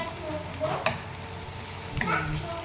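Garlic and onion sauté in oil with a steady close sizzle, broken by a few scrapes and clinks of a spoon stirring through the pan.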